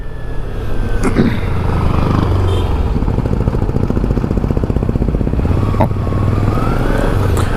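A Kawasaki Ninja 300 is ridden along a coastal highway. Its engine drones loud and steady with a dense, buzzing pulse, and wind rush covers the whole stretch.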